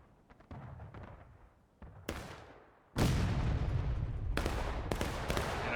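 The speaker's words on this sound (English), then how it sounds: "here again is the good old cannon from the Jeff Davis battery" A Civil War cannon of the Jeff Davis battery fires in the War of Rights video game, a sudden heavy boom whose loud rumbling blast lingers, after scattered distant musket shots.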